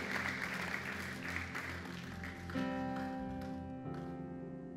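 A church congregation claps together in sustained applause, then the clapping thins as organ-like sustained tones come in underneath.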